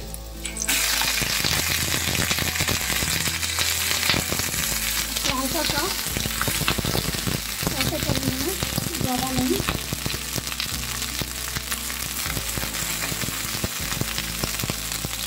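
Small eggplants frying in mustard or refined oil give a loud, steady sizzle with crackling throughout, plus a few soft scraping stirs toward the middle.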